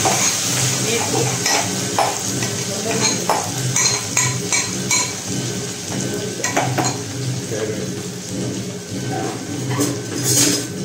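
Asafoetida and other tempering spices with toor beans sizzling loudly in a pan, steady dense frying hiss with utensil clinks and stirring scrapes throughout, close up.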